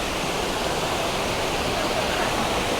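Algar waterfall in Spain pours steadily, a dense, even roar of falling water that stays loud and unbroken throughout.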